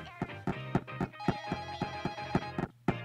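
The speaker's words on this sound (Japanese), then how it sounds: "電話鳴ってるけど、しじまちくん出んでええの?" A telephone in a video game rings in repeated short bursts, a steady loud trilling pattern with brief gaps, alone with no talk.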